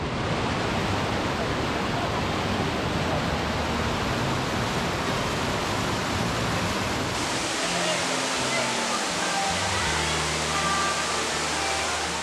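Steady broadband roar of one of the six waterfalls at San Rafael del Sur, loud and continuous with no voices, its low rumble thinning slightly partway through.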